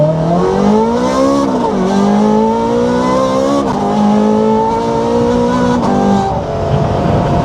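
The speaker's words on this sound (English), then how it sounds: "Looks like we can do one more little acceleration run." A Ferrari 430 Scuderia sports car accelerates hard, heard up close. Its loud engine note climbs steadily in pitch and drops at each of several quick gear changes.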